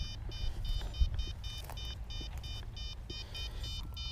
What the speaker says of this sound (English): I hear this thing beeping out at the bushes